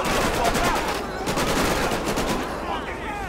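Rapid gunfire rattles between rival gangs, the Ballers and the Vagos, in GTA 5, a dense automatic burst heard up close with a layered crackle that runs continuously and loudly throughout.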